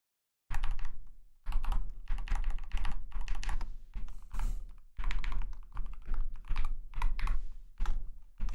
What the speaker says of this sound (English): sound on the keyboard, because I got a new mechanical keyboard. It's a Keychron